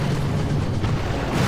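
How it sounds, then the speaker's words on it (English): A boom cannon is destroyed in the Boom Beach strategy game, a dense, loud low rumbling blast that sustains throughout with no speech. "now he's taking out the boom cannon."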